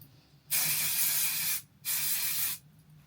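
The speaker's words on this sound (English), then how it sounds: "You just spray it through your hair." Volumizing hair spray hisses from an aerosol can in two sustained bursts of about a second each, close and loud, separated by a short pause.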